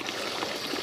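Steady water pours from the overspill of a 4-inch plastic drain pipe at an ancient spring in Leicestershire, a continuous close rush with no talking.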